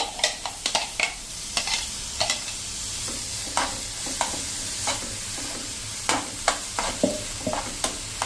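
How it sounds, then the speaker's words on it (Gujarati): Onions and chillies sizzle in a hot pan as chopped tomato goes in, with repeated close scrapes and clatters of a spoon stirring at an uneven pace. "હવે આ સ્ટેજે આપણે ટમેટું જે ઝીણું સમાર્યું છે એને પણ નાખી દઈ"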